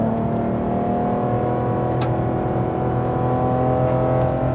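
A Porsche GT3 RS on a track at Speed Vegas runs a steady, loud engine drone heard from inside the car, holding a sustained pitch as the throttle comes back on.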